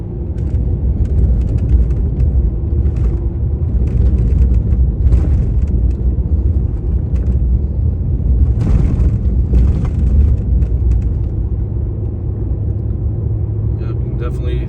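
A loaded camper rolls over frost heaves on the Alaska Highway. A loud, continuous road rumble and engine drone carry occasional heavier thumps and jolts from the uneven pavement.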